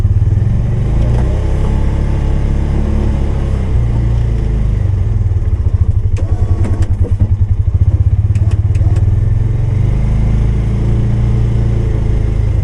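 A Polaris Ranger 570 SP Premium UTV engine runs loud and close while shifted into gear for plowing, with a steady low drone, a rhythmic chugging patch, and some clatter.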